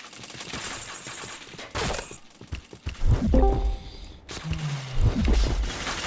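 Gunfire in the shooter game Point Blank comes in several sharp bursts and single shots with impacts and effects, fairly close and loud, with no talk.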